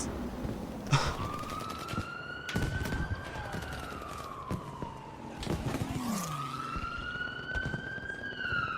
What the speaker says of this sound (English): Being interrupted by the arrival of the ambulance